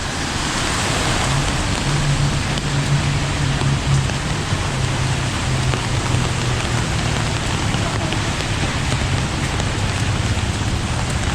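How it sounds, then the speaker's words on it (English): Heavy rain pours steadily onto a street in the Nana area off Sukhumvit Road during an afternoon thunderstorm, a loud, dense, unbroken hiss of water with a faint low hum of traffic beneath, and no voices. "it started raining probably after 2 o'clock and it's just after 4 now."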